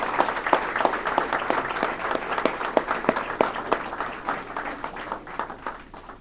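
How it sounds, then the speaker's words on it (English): Applause breaks out at a college basketball press conference naming a new head coach, a lively burst of many hands clapping in quick uneven bursts that gradually thins out over several seconds. "One final round of applause for..."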